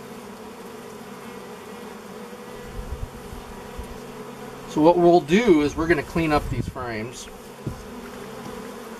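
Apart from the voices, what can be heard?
bees buzzing at an opened old beehive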